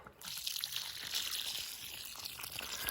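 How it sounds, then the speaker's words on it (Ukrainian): Water pours and trickles onto the soil around a newly planted rose during autumn planting, a soft continuous splashing heard alone at low level. "Гарненько поливаємо водою."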